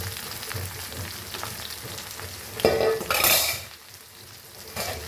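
Green brinjal sautés in a hot pan with a steady sizzle, while a spoon scrapes and clatters against the pan in several stirring strokes close by.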